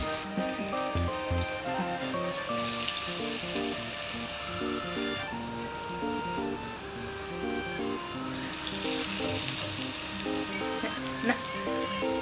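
Vada batter deep-frying in hot oil, a dense continuous crackling sizzle with bubbling that rises and falls in intensity throughout, loud and close with no talking.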